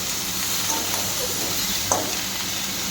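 Salted katla fish curry sizzles steadily in a pan while being stirred, a close, even hiss broken by one or two faint scrapes of the spoon.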